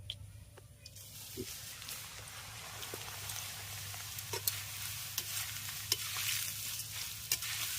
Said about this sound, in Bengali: এবার চিড়েটা ভেজে নেব